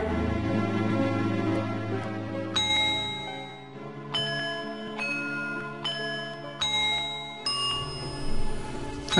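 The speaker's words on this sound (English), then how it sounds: "I like how Tattle's secretly a bell" Bright, ringing bell chimes of the fairy Tatl in the video game Majora's Mask sound in a series of clear dings over quiet in-game music, several separate strikes spread across the stretch.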